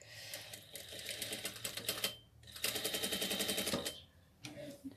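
Stitching a doll dress, a sewing machine runs in rapid rattling bursts, close and clear, with a brief pause midway and a short restart at the end.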